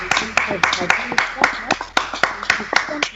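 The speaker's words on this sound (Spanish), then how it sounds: "Les damos un aplauso también desde aquí" Rhythmic clapping for health workers, a few hands striking in a steady repeated beat, close and distinct, with a voice talking beneath.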